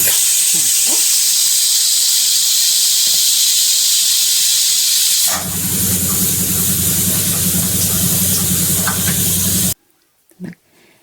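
A loud, steady hiss of steam escaping from a pressure cooker whistle. A low rumble joins partway through, then the hiss cuts off abruptly near the end.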